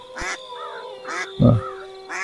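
A goose in a stop-motion animation gives a series of nasal quacks and honks, about four short calls in a broken rhythm, close and clear over a faint steady hum.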